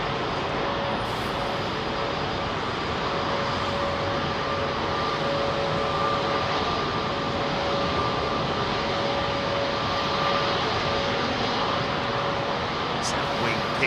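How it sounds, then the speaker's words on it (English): A Turkish Boeing 777 freighter takes off in crosswinds at London Heathrow Airport, its engines making a loud, steady jet roar that holds for the whole stretch with no break. "The sort of Turkish 777. I think it was a freighter taking off in the crosswinds, and it was quite spectacular"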